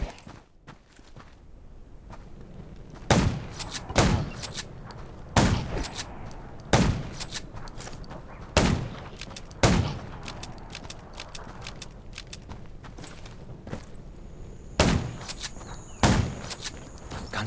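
Gunfire from the zombie survival video game Undawn Mobile: loud, sharp shots ring out in separate bursts, about nine in all, spaced a second or more apart over a low, quiet background, with no talking.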